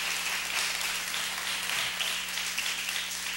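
Applause from an audience at a Fundación Cisneros seminar, a steady wash of clapping holding evenly for a few seconds with a low hum beneath and no talking.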